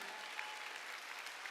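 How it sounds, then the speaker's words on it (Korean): A church congregation claps together during a Sunday worship service, a steady, dense burst of applause filling the room for a moment. "박수 치라 이게야"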